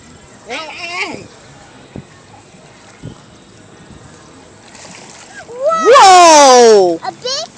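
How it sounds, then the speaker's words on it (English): Ducks fighting over bread at a pond kick up a big water splash, with loud quacking and squawks rising near the end; people talk and exclaim in the background. "Whoa! A big splash."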